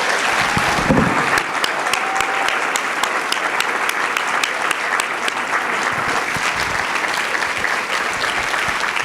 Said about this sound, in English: Let's have one more round of applause for all of our winners